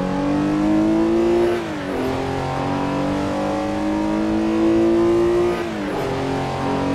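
A Porsche 906 E race car in Assetto Corsa, driven at Daytona International Speedway, revs its engine loudly and continuously, with its pitch climbing steadily and then dipping briefly at two gear shifts.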